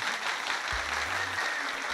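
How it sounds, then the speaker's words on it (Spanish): Audience applause honoring Pedro Martínez, the Hall of Fame pitcher, at a ceremony: steady, dense clapping sustained evenly for about two seconds, with a faint low hum underneath. "Un aplauso para Pedro."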